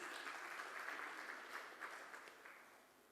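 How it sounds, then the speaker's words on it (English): Audience applause for dignitaries on a dais at a Premier Futsal League team announcement event in Mumbai, a steady wash of many hands clapping that fades slightly toward the end. "Can I have a huge round of applause for all the dignitaries on the dais"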